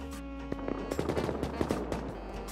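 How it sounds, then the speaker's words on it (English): Rapid gunshots in the survival game Rust: bursts of automatic fire, several sharp cracks and quick volleys at moderate distance over a steady low hum, with no talking. "Someone else is shooting at them."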